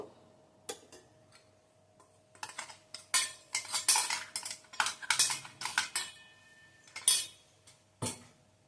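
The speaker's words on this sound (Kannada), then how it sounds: "ಆ ಪುರಿ ಪುಡಿನ ಹಾಕ್ಕೊತಾ ಇದ್ದೀನಿ ಎಲ್ಲ ಹಾಕ್ಬಿಟ್ಟು ಮಿಕ್ಸ್ ಮಾಡಬೇಕು" Crushed puri powder stirred into a pan for puri uppittu: repeated scraping, clinking utensil strokes against the pan, irregular and close, growing busier midway, with no talking.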